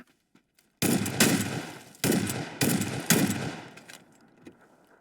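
Four heavy revolver shots boom in quick succession in a ghost-killing video game, each loud and close with a short decaying tail, before quiet returns.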